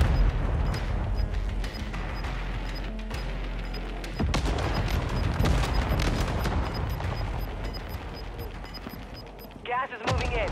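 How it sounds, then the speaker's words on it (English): Mortar strikes land during a Call of Duty: Modern Warfare II match, loud booming explosions and rattling gunfire blending into a dense continuous battle din, with game voice chatter mixed in. "Mortar support incoming!"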